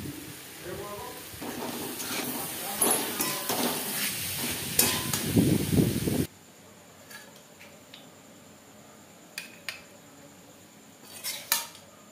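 Carrot halwa cooked with ghee is stirred in a pan, with utensil scrapes and clinks over a soft sizzle for about six seconds, then a quieter stretch with a few scattered clinks.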